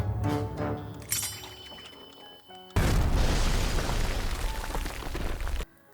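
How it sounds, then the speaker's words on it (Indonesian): A bomb trap rigged to a door blows up in a sudden loud boom, followed by a roaring blast that lasts a few seconds and then cuts off sharply, with no voices. "Pintu itu dipasangi jebakan bom. Seketika itu juga, mereka panik dan terpental."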